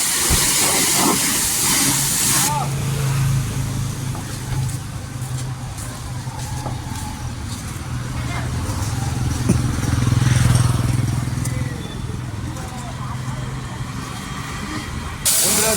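A high-pressure water jet sprays during a cleaning job, a loud, steady hissing roar with an underlying motor hum that runs for about sixteen seconds with slight surges and no clear pauses.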